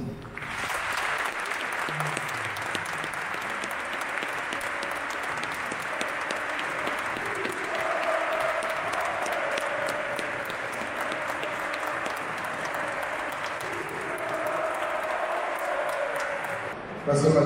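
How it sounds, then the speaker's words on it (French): Sustained stadium crowd applause before a Reims versus Ajaccio football match, a broad steady wash of clapping from many supporters that holds for the whole stretch without a break. "Avec 1 minute d'applaudissement."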